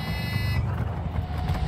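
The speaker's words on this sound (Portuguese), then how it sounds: "Mete a buzina toda hora aqui em mim." A car horn in the video game Far Cry 6 blares for about half a second at the start, then a steady low engine rumble carries on alone.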